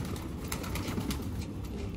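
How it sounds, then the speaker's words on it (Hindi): Pigeons coo softly in a group close by, low repeated calls over a steady background hum. "ये सारे कबूतर हैं भाई नन्नू भाई के"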